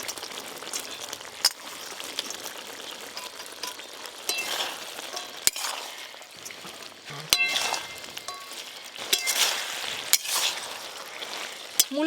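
Radish and small fried fish cooking together in a pan on a village clay stove, with a steady soft sizzle and bubbling broken by sharp clinks and scrapes of stirring.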